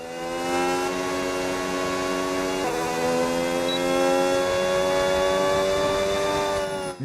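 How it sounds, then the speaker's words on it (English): Formula 1 race car engine in the F1 26 video game, a sustained high-pitched whine held at steady revs with a brief gear shift partway through, loud and close with no talking. "I say it a lot of times, but this 4 engine sounds really good in the game."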